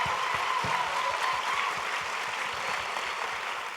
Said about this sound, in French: je vous prie d'applaudir très, très fort notre marraine de promotion